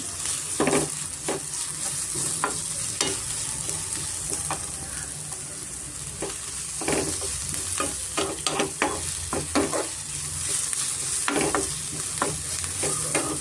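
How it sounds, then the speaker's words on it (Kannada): Onion with ginger-garlic paste frying in oil while being stirred for a curry leaves pepper chicken fry; a steady sizzle runs throughout, broken by frequent scraping stirs, close and moderately loud, with no talking. "ಈರುಳ್ಳಿ ಶುಂಠಿ ಬೆಳ್ಳುಳ್ಳಿ ಇದೆಲ್ಲ ರಾಸ್ ಮೇಲೆ ಹೋಗಿದೆ ಎಣ್ಣೆ ಚೆನ್ನಾಗಿ ಫ್ರೈ ಆಗಿದೆ ನೋಡಿ"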